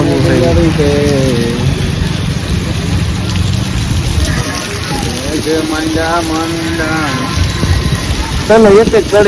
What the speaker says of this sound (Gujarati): વરસાદ પુલ ચાલુ છે તમે જોઈ લો વરસાદ